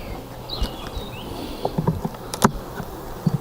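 Honey bees from a small swarm buzz around a hive at an apiary, a thin insect drone with occasional louder passes and knocks of frames nearby.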